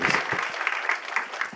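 Church congregation at a Sunday afternoon service breaking into applause to glorify God, a brief, dense burst of clapping from many hands, near and moderately loud, with no speech over it.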